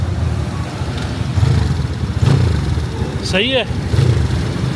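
A new motorcycle engine runs steadily during a test, with a low rumble and a rising rev partway through, while people talk over it.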